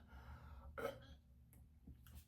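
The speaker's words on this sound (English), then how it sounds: "That burp was awful." A short, quiet burp after drinking a pre-workout at the gym, one brief guttural burst followed by faint breaths and small throat sounds.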